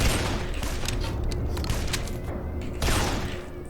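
A weapon in the zombie game Guns Gore & Cannoli fires a dense, rapid volley of loud shots that carries on for several seconds, with booming impacts and a burst of extra shots near the end.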